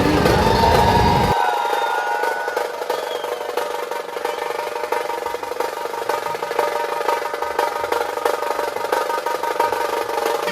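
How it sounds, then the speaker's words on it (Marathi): A vehicle engine rumbles steadily at idle in a festive Ganesh Chaturthi street setting, loud and continuous, with crowd noise blended in and a brief burst of voices and chatter at the very start. "आली आली गाडी."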